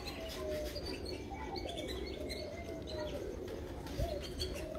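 Pigeons on a rooftop loft in Sharjah coo softly and repeatedly over a steady low background hum, with faint chirps mixed in.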